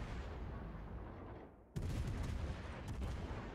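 Warship guns fire in a naval video game as the rear turrets are brought to bear, a sudden heavy boom cutting through a steady background rumble after a brief dip.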